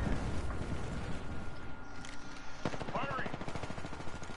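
Gunfire in the battle royale game Apex Legends, rapid automatic bursts and scattered shots fairly quiet under a player talking throughout.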